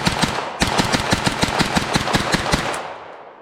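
Range gunfire from an HK SP5, the semi-auto civilian MP5 variant, comes as rapid, evenly spaced shots in a steady string after a brief pause, loud and close, ending in a fading echo.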